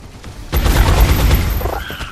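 A sharp pistol shot in the video game XCOM: Enemy Within bursts in after a brief quiet moment, followed by a rumbling, crackling tail of gunfire echoing on for over a second.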